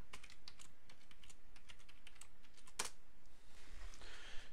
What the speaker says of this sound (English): Type your password in